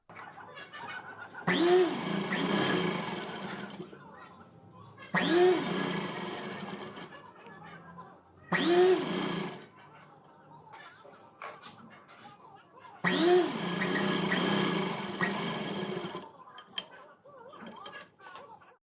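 An electric sewing machine stitches a one-inch folded hem on a nighty in four close, loud bursts of rapid needle chatter, separated by quiet pauses.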